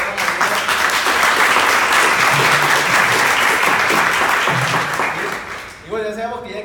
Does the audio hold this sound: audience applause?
yes